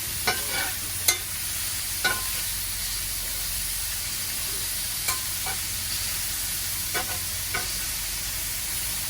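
Beef searing and browning in a hot pan for Philly cheesesteak: a loud, constant sizzling hiss with occasional sharp clicks and scrapes of stirring.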